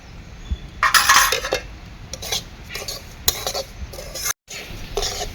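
Semolina dry-roasting in a pan for suji upma, a spoon stirring and scraping it around, with bursts of metallic scraping and clinking against the pan, loud at first and then steadier; no one speaks.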